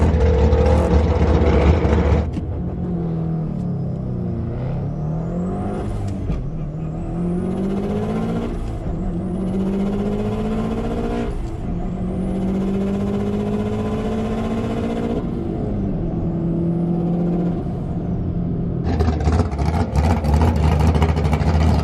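All-wheel-drive manual car launching hard down a drag strip at Bender, engine screaming through rising rev sweeps and quick gear changes, loud and steady with no talk.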